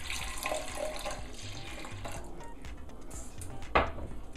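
Filtered water is poured from a tap into a cooking pot holding lentils for a Mexican lentil soup, making a steady, close trickle and splash, with a brief louder clatter of the pot near the end.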